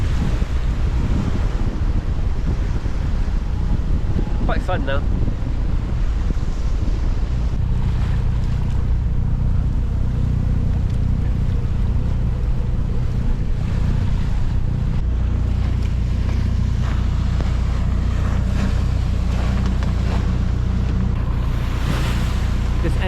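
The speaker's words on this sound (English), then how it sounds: "It's causing the waves to turn over." Waves turning over against an opposing current near a moving boat off Tahiti, a steady loud wash of surf and water churning the whole time, with heavy wind buffeting the microphone and a brief spoken remark.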